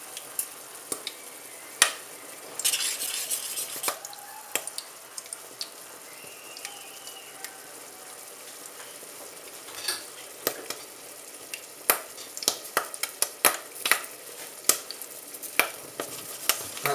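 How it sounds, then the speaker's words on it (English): Cranberries cooking in a pan with vinegar and molasses, giving scattered sharp pops and crackles over a soft sizzle, with occasional stirring noises and louder clusters of bursts toward the end. "That sound you hear is the cranberries popping."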